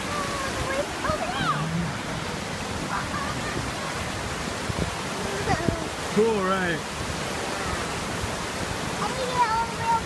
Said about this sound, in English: We're gonna go look at the waterfall.